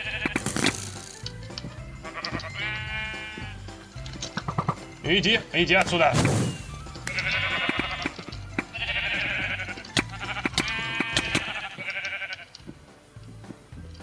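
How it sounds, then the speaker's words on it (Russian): Sheep bleating in the Minecraft game, several short repeated bleats in bursts, loud and close, with people talking excitedly over them. "Наша вторая овца."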